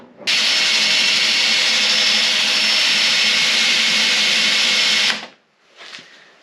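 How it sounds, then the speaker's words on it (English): A power drill bores out spot welds on a Ford Econoline van body, a loud steady high whine held for about five seconds before cutting off, followed by a brief softer spin-down. "I got to do some more drilling. Drill these a little bit deeper."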